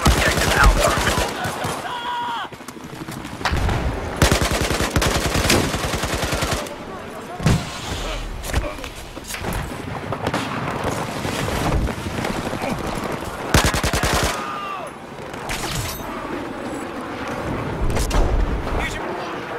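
AK-12 assault rifle fire in Battlefield 4, loud rapid automatic bursts in repeated strings with booms and explosions around them, a player talking intermittently over the combat.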